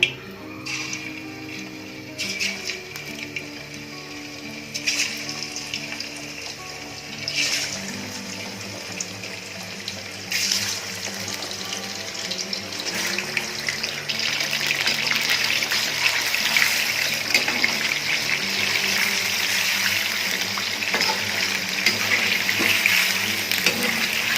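Chicken pieces frying in hot oil in a karahi, a steady broadband sizzle that builds and grows louder over about 24 seconds, with no talking.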